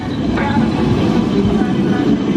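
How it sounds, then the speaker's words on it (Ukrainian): A Lisbon tram on a city street, a loud, close rumble of wheels on rails with some clatter, steady throughout the short passage. "Трамвайчі швиденько так бігають вгору вниз."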